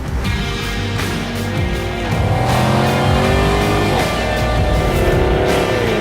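A 2016 Chevrolet Camaro engine runs loud and close, revving up and settling with rising and falling pitch over a steady, dense roar.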